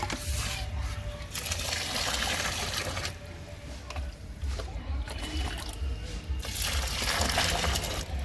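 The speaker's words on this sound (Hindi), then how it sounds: "तो इसमें मैं खोलता हुआ पानी और डालूँगा।" Boiling water poured from a bucket onto wheat straw for growing button mushrooms at home, a continuous close splashing and trickling flow that pauses briefly and resumes, with no talk over it.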